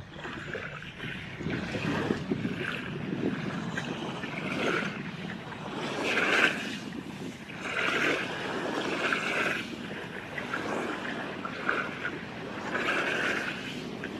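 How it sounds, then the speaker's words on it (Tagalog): Waves roll in and break against the shore of Manila Bay at the end of Dolomite Beach. Repeated surging swells rise and fall at an irregular pace, loud and close, with no talk over them. "napakaganda pong pakinggan yung mga hampas ng alon"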